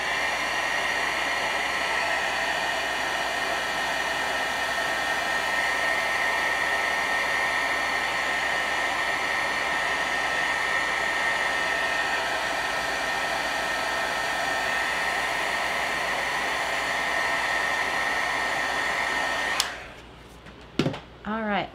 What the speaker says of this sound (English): I'm gonna hit this with my heat tool